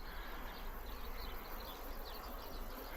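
Bees buzz steadily on an outdoor bee farm, a dense continuous hum from many insects with no talking.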